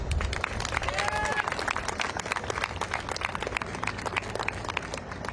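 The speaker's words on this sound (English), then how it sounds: "So a round of applause for this speaker." A crowd claps and cheers for a speaker at a student protest rally in Washington, D.C., dense, continuous applause filling the whole stretch with some scattered voices mixed in.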